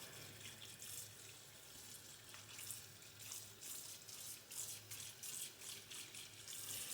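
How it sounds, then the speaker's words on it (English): Cold tap water runs over bluegill fish in a kitchen sink to thaw them, a faint, steady splashing stream with small irregular surges and no talking. "you're just running cold water on them, thawing them out a bit."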